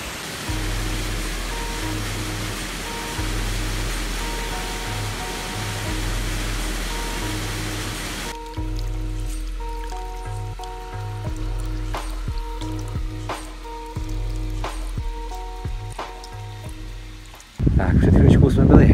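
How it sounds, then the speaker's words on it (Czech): A waterfall below a large pond dam rushes in a steady broadband roar, loud and close for the first half, then quieter with intermittent tones and clicks before a loud burst at the end. "dneska je vody dost, protože ten vodopád za mnou,"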